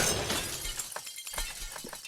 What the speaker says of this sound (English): I shot that glass.